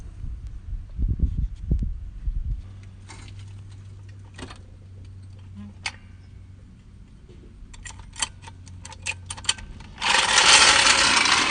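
Metallic ticks and clinks from loosening bolts on a 2012 Chevy Cruze strut, scattered and fairly close, with a low hum in the middle and a burst of broadband noise near the end.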